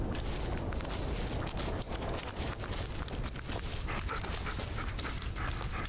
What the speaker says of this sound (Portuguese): Tá aí o cachorro perdidos.